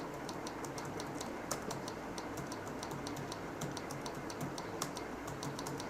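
Rapid, steady keystrokes on a computer keyboard during a basic typing lesson, a continuous stream of light clicks at an even pace with no voices, heard fairly quietly over a faint background hiss.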